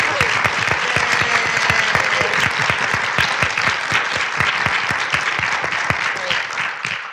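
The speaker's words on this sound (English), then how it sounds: "I also want to give a big round of applause to Ann Hill" Sustained audience applause at an International Women's Day summit, loud and dense, with sharp individual claps throughout and a few faint voices under it.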